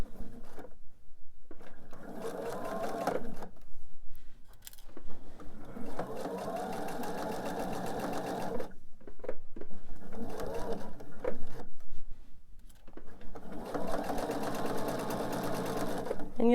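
A sewing machine runs in several multi-second bursts, stitching quilt pieces for a fussy-cut candy dish block, its steady rapid needle chatter stopping and starting between runs while someone talks.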